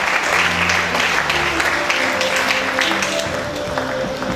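Audience at a university convocation lecture gives a warm, continuous round of applause, steady and full, with a faint tonal hum or voice running underneath.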